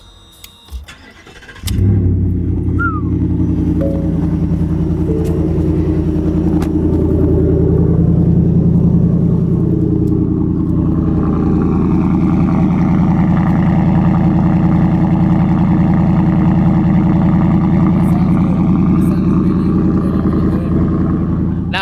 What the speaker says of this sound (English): I think it has a Borla exhaust on it, so we might or might not change that up.